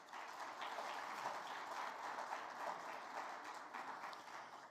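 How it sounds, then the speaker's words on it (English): Steady, dense applause from a conference audience at an energy summit, moderately distant and continuous for several seconds with no talk over it. "Tom Stricker, let's give them a round of applause."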